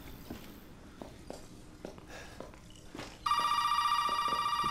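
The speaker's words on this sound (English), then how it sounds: "pick the phone up" Telephone ringing in the Resident Evil 7 video game: a loud, continuous electronic ring starts partway through and persists to the end, following quieter footsteps and game ambience.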